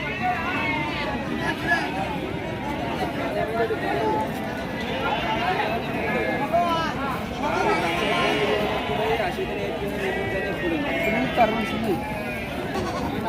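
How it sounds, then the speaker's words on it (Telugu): Sheep, including pregnant ewes, rams and lambs, bleat repeatedly at a rural livestock market in Telangana, their calls rising over a constant crowd murmur and nearby talk. "సాదుకునే మంద అండి, సూడితోటి ఉన్న గొర్రెలు ఇవి."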